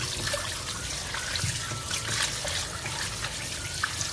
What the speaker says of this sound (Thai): อันนี้เราจะล้างให้สะอาดเลยนะครับ ล้างสักสองสามน้ำเลยนะครับ